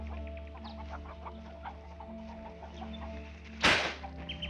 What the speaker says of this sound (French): C'est sa façon à elle de tuer les poulets.